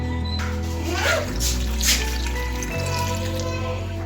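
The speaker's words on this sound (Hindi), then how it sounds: "अब हम इसमें ऐड कर देंगे 1 प्याली या 1 गिलास के करीब पानी।" About a glass of water poured into a pot of sarson ka saag, a continuous close splashing and trickling that runs for several seconds, with a brief low thump partway through.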